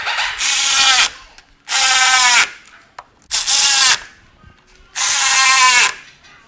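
A power drill tightens the sway bar bracket bolts on a Toyota Tercel/Paseo/Corolla. It plays as four loud, close whirring bursts of about a second each, with brief gaps between them.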